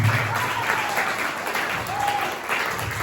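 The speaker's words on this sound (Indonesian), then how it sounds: "Tepuk tangan dulu buat kita semua." A class in a teacher training session claps together, a steady, even wash of applause at moderate level that continues for a few seconds with no talk over it.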